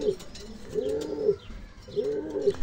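Sport pigeons cooing close by, two rounded coo phrases about a second apart with faint chirps and background rustle, no talking.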